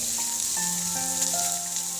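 Shrimp for fried rice sizzle in a hot pan, a steady close frying hiss running throughout with a faint tonal hum in the background.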